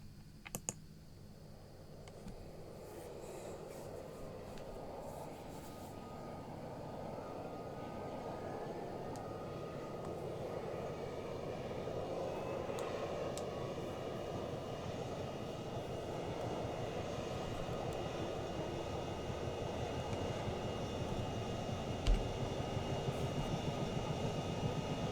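A Chinook helicopter's engines spool up in the ArmA video game as a continuous, rising turbine whine and rumble that builds steadily over about twenty-five seconds, with faint keyboard clicks underneath and no one speaking.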